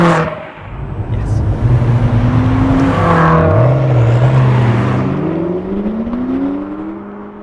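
A McLaren 12C Spider with a twin-turbocharged V8 uprated to 616 bhp drives close by, its engine revving and climbing through gears in a loud, continuous roar.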